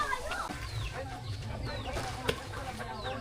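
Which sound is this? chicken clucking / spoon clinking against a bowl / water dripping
chicken clucking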